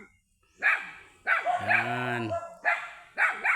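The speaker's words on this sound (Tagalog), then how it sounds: "Maingay ang aso dito guys." A dog barks repeatedly near a large tree on a rural farm property, loud, close bursts including one longer howling bark, with a person briefly speaking.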